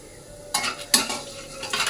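Whole garam masala spices, cumin and chilli frying in oil in a wok, a steady soft sizzle punctuated by a few sharp scraping stirs of a utensil against the pan, close and fairly quiet.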